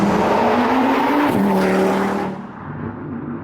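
A VW Golf R Mk6 fitted with a 500 bhp 2.5L Audi RS3 five-cylinder engine drives at speed, its loud, steady engine note rising in pitch before easing off as the car lifts near the end.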